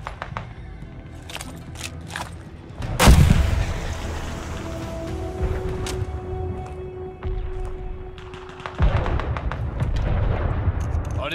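A flare fired in the Call of Duty Vanguard video game: a loud sudden bang and whoosh, then a sustained hissing burn with a steady tone, over rumbling battle noise and scattered gunfire, with a later second blast.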